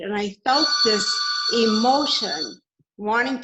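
A telephone rings with steady, bright electronic tones through much of the moment, playing under a woman's continuous speech and carrying on across her pauses.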